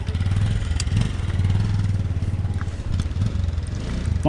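A Royal Enfield-type motorcycle on a rough, rocky road near Dolalghat in Kavre runs with a steady low engine rumble and occasional clatter, loud and close throughout, with no talk.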